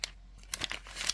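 A plastic bag around a Shredder action figure crinkling in a few short, sharp rustles, close to the listener and fairly quiet.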